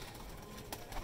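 Breeder pigeons cooing softly in a loft, faint low murmuring calls over a steady background hiss, with a couple of slightly louder coos near the end.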